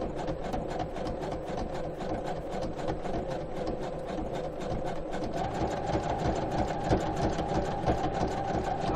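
A sewing machine stitches a repair on torn denim jeans, its needle chattering in a fast, steady mechanical rhythm that holds constant throughout, moderately quiet and close.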